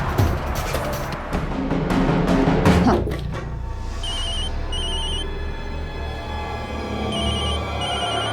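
A telephone rings in a tense crime drama scene, short electronic trills repeating in pairs over a dense, loud background of music and rumbling noise that fades slightly after a busy opening.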